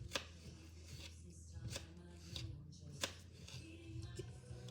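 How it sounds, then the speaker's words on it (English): Knife chopping strawberries on a cutting board, a few sharp taps spaced irregularly, with low room noise and faint voices in the background. "right now we're just chopping up some strawberries"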